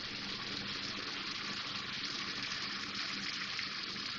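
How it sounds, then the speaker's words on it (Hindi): Water is poured into tomato masala simmering in a pan for a paneer dish, a steady continuous gushing splash that holds evenly throughout without any talk over it. "थोड़ा सा पानी डालूंगी इसमें।"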